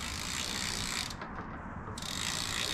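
Rapid, steady ratcheting clicks from a BMX bike freewheel as the crank spins, close up and continuous.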